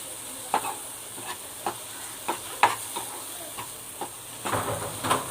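Oil fries in a pan, the lid just lifted, giving a continuous sizzle marked by repeated sharp stirring clacks at irregular intervals and a louder sputter near the end, close and with no talking.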